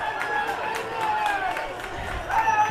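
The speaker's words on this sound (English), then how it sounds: "the crowd behind us is crazy." Spectators at a 9U youth baseball championship game make a steady, noisy wash of crowd chatter and cheering, with whistle-like calls and shouts rising above the general din.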